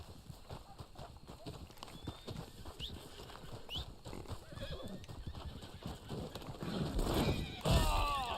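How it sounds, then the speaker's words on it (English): A horse in Red Dead Online whinnies and snorts while its hooves clip-clop in a steady rhythm, with a louder neigh near the end and faint game ambience underneath. "What are you doing, horse?"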